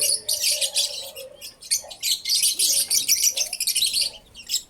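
Birds chirp and tweet in quick, overlapping high-pitched bursts, several calls repeating steadily throughout, fairly close and clear with no talking.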